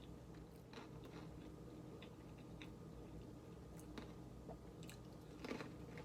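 Someone bites and chews a crunchy cauliflower pizza topped with Chex cereal, giving faint, scattered crisp crunches against a quiet background.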